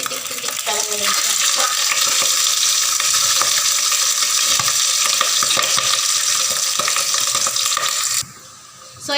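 Crispy pork pieces, the last batch, frying in hot oil in a pan for pinakbet, a loud, steady dense sizzle with constant popping and crackling that drops away abruptly near the end.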